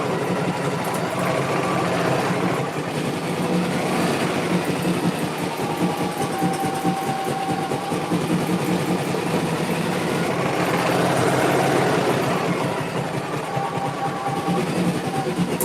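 A sewing machine runs steadily while stitching basket edge patterns, a continuous mechanical whir with a rhythmic chatter that holds for the whole stretch with no voices.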